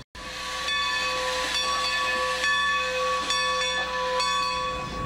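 A steam train on the rails gives a steady, loud hiss with sustained whistle-like tones that swell and fade several times over a constant rumble, with no voices.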